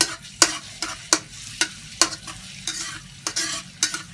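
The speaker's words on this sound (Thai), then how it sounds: "ยุงก็จะใส่กระเทียมที่สับไว้ลงไปผัดเลยจ้ะ" Minced garlic sizzles and crackles in hot oil in a wok, with regular scraping strokes of a spatula stirring the pan, no voices.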